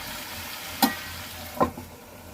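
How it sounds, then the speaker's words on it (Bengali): Chicken with Malabar spinach and potato being sautéed and stirred in a pan, two short scraping clinks of a spatula over a soft, low background sizzle, with no voices. "ভালো করে কষিয়ে নেব ঢাকা দিয়ে।"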